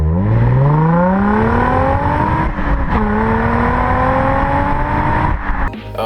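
A Nissan 350Z engine with a cheap aftermarket exhaust revs loud and close, its pitch climbing steadily, dipping briefly, then rising again in a second long pull before cutting off.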